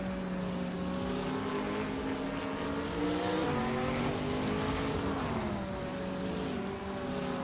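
Race car engines in a racing game with a KTM Crossbow GT4 and a 2019 Ginetta G55 Super Cup on track, a loud continuous high engine whine that shifts pitch with gear changes and faint tyre squeal, no talking.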